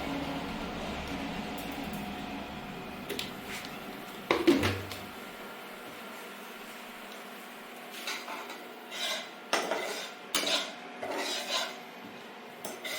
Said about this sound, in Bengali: সুগার অ্যাড করে একটু নাড়াচাড়া চলছে